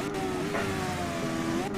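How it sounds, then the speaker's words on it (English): Mitsubishi Lancer Evolution X drifting in CarX Drift Racing Online, its engine holding a steady high drone with a pitch that wavers as the car slides, with faint talk underneath. "we got the EVO 10 here, sliding and gliding"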